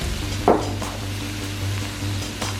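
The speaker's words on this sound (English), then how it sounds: "we're gonna go ahead and cook the shrimp really quick" Shrimp sizzling in a pan on a stovetop burner, seasoned with salt, pepper and red pepper flakes, giving a steady close frying hiss with a few small clinks.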